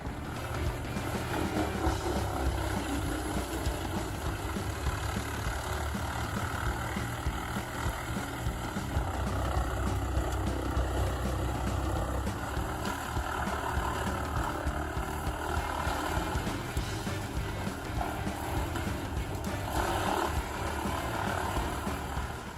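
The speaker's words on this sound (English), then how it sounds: "the wood processing process of the CBI Magnum Force 6400 CT horizontal grinder, a powerful industrial machine" A CBI Magnum Force 6400 CT horizontal wood grinder processes wood into chips, a heavy, constant industrial roar with deep rumbling and gritty crunching texture, loud and sustained for the whole stretch.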